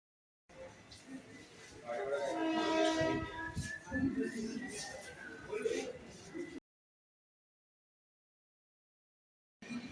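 Mumbai local train at a station platform, a rumbling pass with a horn-like tone, mixed with crowd voices and platform talk, then abrupt silence.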